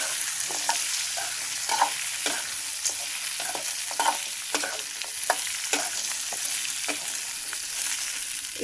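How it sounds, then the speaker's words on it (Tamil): Onions sautéing in oil for mint coriander chutney give a steady close hiss, broken by frequent light scraping stirs of a spoon in the pan, with no talking. "நல்லா இந்த எண்ணெயில் வதங்கட்டும்"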